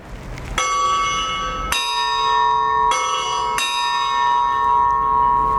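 Clock tower bell of the San Luis Obispo clock mechanism striking the half hour: four loud, ringing strokes spaced about a second apart, each leaving a long sustained hum that overlaps the next.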